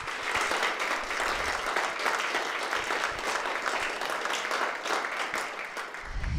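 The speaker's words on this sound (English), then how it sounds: "let's give them another round of applause" Dense, continuous applause from an audience at an education foundation breakfast event, a steady roar of clapping holding at even loudness throughout.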